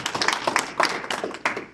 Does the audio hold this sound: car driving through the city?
no